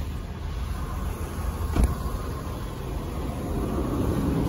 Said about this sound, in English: we have this vehicle running